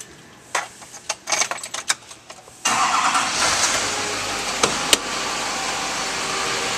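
A 2008 Chevrolet Silverado 2500 with a 6.6L diesel engine cranks briefly amid a few clicks and thumps, then catches and settles into a loud, steady close-up idle with a broad rattling roar.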